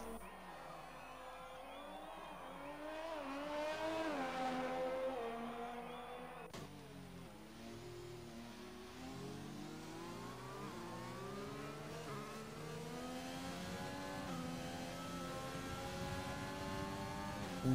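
Race cars at the Japanese Grand Prix in an Xbox racing game, engines revving and shifting through gears as cars rush past, rising and falling whines layered over each other at moderate level.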